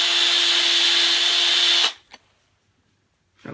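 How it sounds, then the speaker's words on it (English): A power drill spins a machined wheel while a file is held against it, making a loud steady whine with a grinding rasp for about two seconds before cutting off abruptly, followed by a brief clack and near silence. "Get a file. Run the drill. Just keep filing it back."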